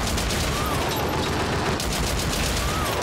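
Auto turrets in the shooter game Haze fire in a dense, continuous rattle of rapid gunshots, loud and close, sustained without pause from start to finish.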